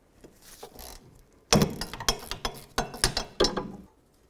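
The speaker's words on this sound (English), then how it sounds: "13 millimeter socket or wrench. I'm going to loosen the bottom one." A 13 mm socket wrench loosens the bottom brake bracket bolt on a 2001-2007 Volvo V70, giving quick clustered ratcheting clicks in several bursts after a quiet start, close and fairly loud.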